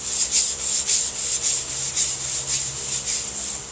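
A car body panel on a muscle car is block sanded by hand with sandpaper, giving a rhythmic series of close, bright scraping strokes, about two per second, with no talk.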